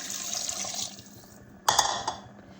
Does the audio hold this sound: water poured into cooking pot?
yes